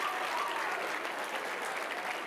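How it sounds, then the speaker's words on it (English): A gala audience gives a round of applause, a fairly faint, steady wash of clapping from a crowd heard at a distance. "Let's give our first bidder a round of applause."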